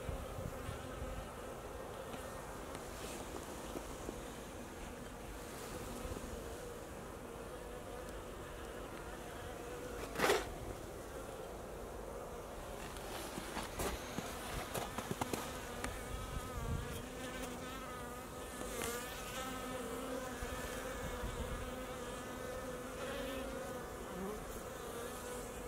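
A continuous low hum of many honey bees flying out of the hive in February, soft and steady, with occasional individual bees droning nearer.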